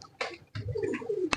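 Pigeons of a prized breed coo in short, low rolling bursts at close range, a few separate phrases across a brief moment with no talking.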